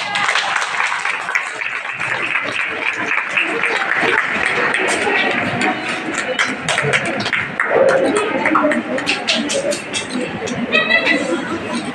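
Applause from a group of people, steady dense clapping mixed with crowd chatter and voices throughout, fairly loud and close.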